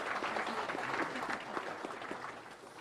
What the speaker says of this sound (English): Let's give them a round of applause and thank them for being here.